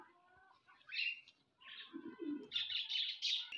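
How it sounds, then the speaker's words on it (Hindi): Pigeons in a home bird setup cooing and chirping close by, a few short soft calls with low throaty coos in between, fairly quiet with no talking. "देखिए कबूतर कितने खुश हैं"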